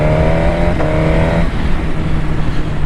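A Suzuki GSX-R1000R motorcycle engine accelerates on a loose surface with traction control working, a loud, close, continuous roar that climbs in pitch and then drops back.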